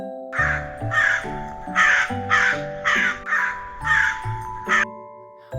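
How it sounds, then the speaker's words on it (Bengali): Loud, close white crow caws repeating in a steady series of about eight harsh calls, with a faint tonal hum underneath. "সাদা কাক সাদা কাককে ইংরেজিতে বলে হোয়াইট ক্রো"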